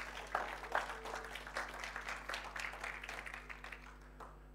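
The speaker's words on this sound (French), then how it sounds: "Est-ce qu'on peut donner une main d'acclamation à Babas?" Church congregation applauding for the sound technician, a faint, thin patter of clapping with a few sharper claps near the start, tapering off over a low steady hum.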